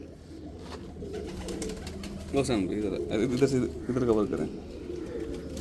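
Salara Teddy rain pigeons coo in soft, repeated throaty bursts close by while someone talks over them.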